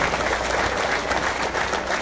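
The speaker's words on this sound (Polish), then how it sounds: "Wielkie brawa dla Damiana." Steady applause from a crowd at a football club's squad presentation, greeting an injured player called forward to show himself; dense, continuous clapping that fills the whole short stretch without letting up.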